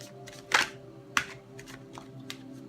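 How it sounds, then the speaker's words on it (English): A few crisp, papery riffling bursts of tarot cards being shuffled, spaced unevenly, close by over a quiet background hum. "We'll do 3 shuffles."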